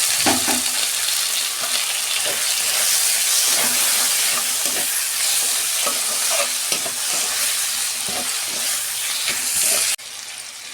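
Tomato hits ginger and garlic already fried in a pan, giving a strong, steady sizzle with repeated stirring scrapes throughout, loud and close, until it drops off sharply near the end.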